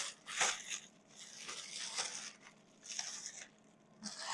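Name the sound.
unwrapping fish from its wrapping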